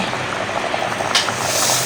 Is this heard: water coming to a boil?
yes